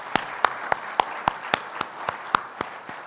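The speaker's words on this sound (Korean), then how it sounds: "우리 찬양대에게 다시 한번 박수 할까요?" A church congregation at a worship service claps for the choir in a steady, evenly spaced beat, about a dozen crisp unison claps sounding moderately close.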